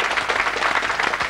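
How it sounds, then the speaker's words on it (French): Studio audience of a French TV game show broadcast on FR3 applauds a team scoring points, steady dense clapping filling the whole moment at close, even loudness. "On peut vous applaudir, vous avez pris les 4 points."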